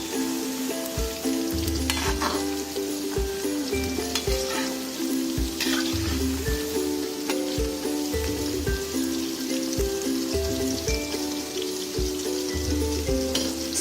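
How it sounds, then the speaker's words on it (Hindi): Chicken pieces for honey chicken fry steadily in hot oil, a dense continuous sizzle with crackling spatter and occasional stirring or utensil clinks, close and loud throughout with no voices. "थोड़ा सा और फ्राई कर लेते हैं।"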